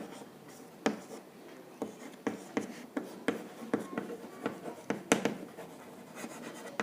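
Pen scratching across paper while filling in animal names and ages for a class 6 bar graph exercise, a close steady series of short strokes with brief pauses between words, no talking.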